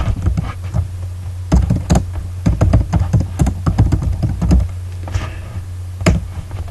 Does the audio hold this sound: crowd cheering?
no